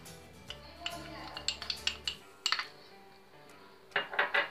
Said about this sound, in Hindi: इनको अच्छे से मिक्स कर लेंगे सभी चीज़ों को।